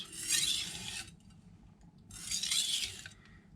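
A kitchen knife draws across a Naniwa superstone whetstone in two long alternating sharpening strokes, each a gritty rasping scrape separated by a short pause, close and clear.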